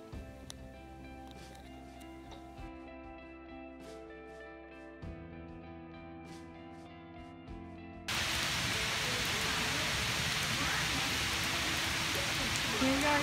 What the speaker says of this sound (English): it's pouring the rain down